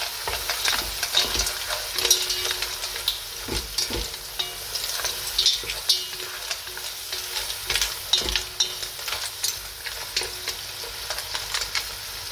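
A pot of mussel seafood stew with mussel meat is stirred, with steady scraping and bubbling interrupted by sharp utensil clinks against the pot over about twelve seconds, and no talk.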